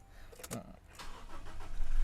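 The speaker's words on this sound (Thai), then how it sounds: "สตาร์ทเครื่องยนต์นิ่มๆ" A Toyota Revo Double Cab Prerunner 2.4 G Rocco diesel pickup with 69,000 km cranks briefly and catches, then settles into a steady, rising idle close by.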